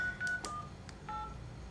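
Short electronic keypad tones from an LG V50 smartphone, a few quick beeps in an irregular sequence, faint over a low background hum.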